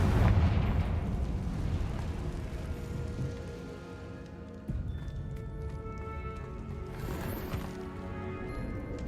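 Confringo fire spell blast in Hogwarts Legacy, a heavy rumbling explosion that starts loud and slowly fades, followed by a second sharp burst with lingering crackle and a rolling tail.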